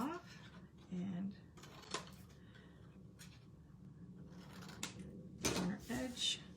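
Scissors snip a small piece off a 3D craft project, giving a few short, close, quiet cuts and rustles over soft room noise.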